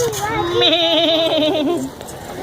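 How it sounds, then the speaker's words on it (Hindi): A goat bleats in long wavering cries during an Eid qurbani sacrifice gathering, loud and close, with children and people talking nearby. "हसन, हसन बकरा किसका है?"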